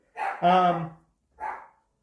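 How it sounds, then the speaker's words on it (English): A pet dog barks in the background of a home livestream: a short yelp, then a longer, strongly voiced bark, then a single shorter bark about a second later. The barks are fairly close and clear, with no talk over them. "I'm going to save you from having to hear my wonderful dog in the background"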